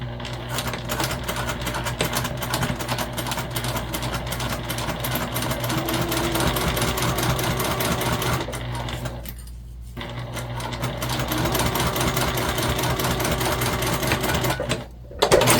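A sewing machine stitches a seam on a fabric pouch in a loud, close, continuous whir, slowing briefly near the middle and stopping for a moment near the end, with no talking.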